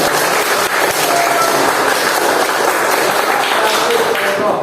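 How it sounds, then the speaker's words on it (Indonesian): A classroom of pupils applauds together, a dense, steady patter of many hands that fills the room at close range without letup. "tepuk tangan dulu dong"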